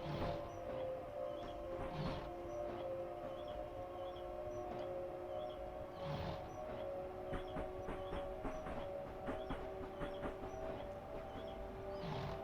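Networker train running on the London–Faversham line after leaving Sittingbourne, a faint steady onboard rumble with sustained tonal traction whine and occasional clunks over the track.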